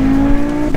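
An Audi RS3 ABT with 500 hp and Pilot Sport 4S tires gives a loud, sustained engine roar with a steady droning tone. The sound lasts under a second and is close.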